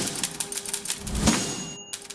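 A mechanical typewriter clatters along in quick, uneven keystrokes, with a carriage bell ding and a short silence near the end.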